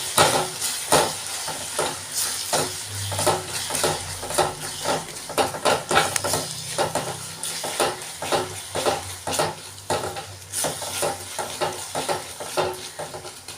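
Ground turmeric, chili and coriander powder fry in a pan for an oyster mushroom gravy. A spoon scrapes and stirs in a steady rhythm, with a continuous sizzle underneath and no talking.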